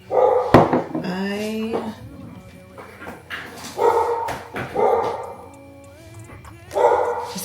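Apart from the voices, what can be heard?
dog barking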